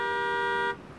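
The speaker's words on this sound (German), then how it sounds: "Wow, wer hupt denn da so?" A single sustained car horn blast sounds steadily for under a second, moderately loud and close, then cuts off abruptly.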